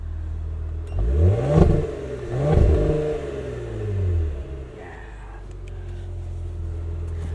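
A 2020 Cadillac CT5-V AWD's V6 engine revs close by in three rising and falling swells, each a throaty roar, then settles into a low, quiet idle rumble.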